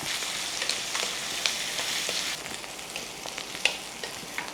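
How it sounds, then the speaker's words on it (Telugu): Two sliced onions and four green chillies frying in hot oil in a pan, a steady close crackling sizzle with small pops throughout, no voices. "ఉల్లిపాయ మంచిగా వేగుతుంది కదా, వేగనివ్వండి."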